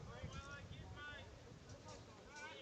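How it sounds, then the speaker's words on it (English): Wind buffets the microphone in low, gusty rumbles while someone speaks steadily over it at an outdoor elimination final between Beresfield and Charlestown. "It's extremely windy here."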